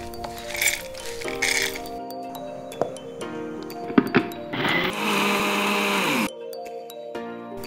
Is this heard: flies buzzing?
no